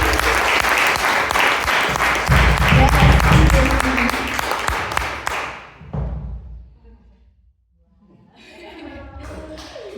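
Audience applause at an evening worship gathering, a dense burst of clapping that swells loud for several seconds, then cuts off and fades, leaving quiet room noise and a few faint sounds.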